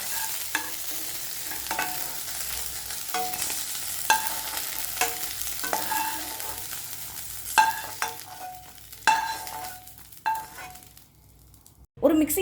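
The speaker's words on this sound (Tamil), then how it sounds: "இப்போ இந்த வெண்டிக்காவை நல்லா ஃப்ரை பண்ணி எடுத்துக்குவோம்" Okra (vendakkai) frying in a pan: a constant soft sizzle broken by repeated clinks and scrapes of a spatula stirring, close up, with no voices.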